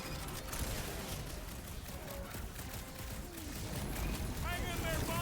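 Rapid gunfire aimed at a big robot in Guardians of the Galaxy, bursts of shots layered over game clatter and character voices, steady and fairly loud for the whole stretch.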